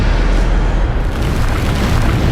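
A Bombarda spell in Hogwarts Legacy erupts as a loud, close, rumbling explosion, a deep boom that fills the whole moment and holds steady without any talking.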